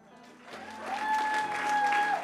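A church congregation at a French-language worship service bursts into applause and cheering for the Lord, the clapping swelling after a quiet start and holding steady, with sustained tones ringing through it.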